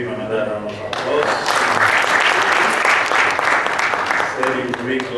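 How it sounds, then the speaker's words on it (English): A fresh round of audience applause at a mining summit follows a presentation on risk management, rising quickly to a dense, loud clapping that holds steady, with a speaking voice heard at the start and end. "let's give him another round of applause"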